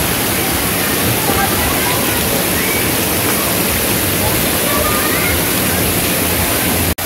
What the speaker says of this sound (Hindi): इधर बहुत सुंदर वाटरफॉल है ऊपर से पूरे से पानी गिर रहा है